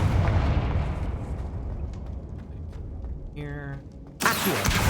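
A Confringo fire spell goes off in Hogwarts Legacy: a heavy, rumbling blast fades, a voice speaks briefly, then a sharp new burst erupts loudly at the end.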